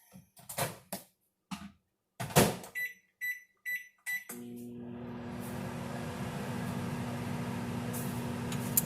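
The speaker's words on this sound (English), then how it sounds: "I'm going to need to melt my 2 tablespoons of butter in the microwave for about 30 seconds." A microwave oven melting butter: a few sharp keypad beeps and clicks, then the steady low hum of the oven running continuously, close and fairly quiet.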